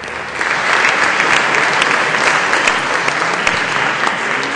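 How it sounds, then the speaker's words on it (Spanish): An audience applauds throughout at a university academic debate between candidates for Guadalajara, with dense, steady clapping that is loud and sustained for several seconds and no talk over it. "Un aplauso, por favor."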